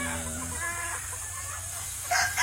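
Moonwalker Sweater gamefowl on a farm clucking close by, a rooster-like call opening the moment before fading into farmyard background, with a brief louder burst near the end.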